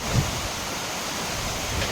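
Heavy monsoon rain pours steadily outdoors in a village, a dense, even broadband hiss that stays loud and unbroken for the whole moment with no voices.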